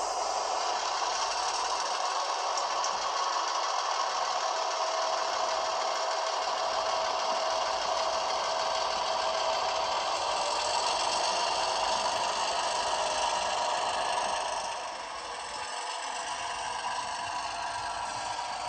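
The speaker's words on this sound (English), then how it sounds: "This is a really cool locomotive." A model diesel switcher locomotive, once the Savannah port switcher and fitted with remote control gear, runs on a layout with a steady buzzing, rattling motor hum. The sound stays constant and fairly close, then eases slightly near the end.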